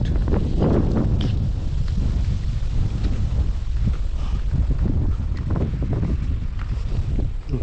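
Strong wind blows through a forest during a mushroom-foraging trip, a loud, constant roar with rustling and gusty buffeting against the microphone.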